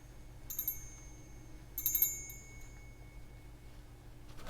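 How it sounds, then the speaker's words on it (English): A small hand bell rings twice in an energy-cleansing ritual, each bright metallic peal fading briefly, quiet and slightly distant over a low room hum, with a faint clink at the end. "I'm doing so simply by using that bell."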